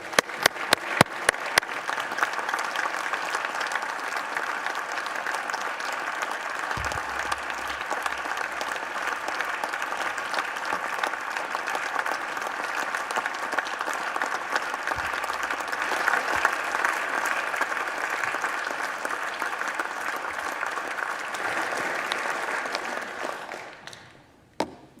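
Sustained applause fills the Senate chamber, a dense steady clatter of many hands that holds for over twenty seconds before tapering off at the end, with a couple of low thumps partway through.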